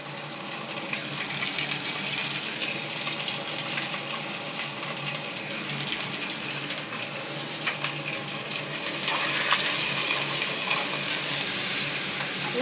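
Soaked paste of cumin, coriander, dried chili, Kashmiri chili and turmeric hits a hot pan with a steady, close sizzle and frying hiss, stirred throughout, growing a little louder and brighter near the end.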